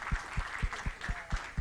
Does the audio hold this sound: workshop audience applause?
yes